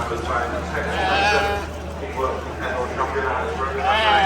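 Sheep bleating in a crowded show class at the Great Yorkshire Show, several calls rising at intervals over a steady low hum, with people talking nearby.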